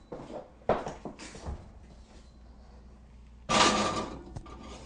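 A pie crust in a baking pan goes into the oven: a metallic clank and rattle as the pan slides in, then a louder scraping thud as the oven door or rack closes, heard close up.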